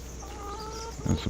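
Chickens cluck in a large flock in Farming Simulator 25, with a short drawn-out call followed by a brief burst of clucks near the end over a steady background hum.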